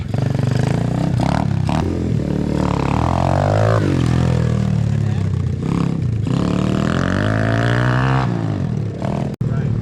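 An Apollo DBX15 Chinese pit bike pulls away after a clutch dump, its small engine revving loud and close in repeated rising, wavering sweeps with clattery mechanical noise, ending in a brief cut.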